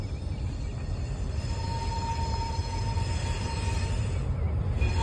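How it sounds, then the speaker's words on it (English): A locomotive-hauled train rolls along railway tracks, a steady continuous rumble with faint metallic wheel tones, held at a constant level throughout with no nearby talk. "It's moving. The train that we saw earlier."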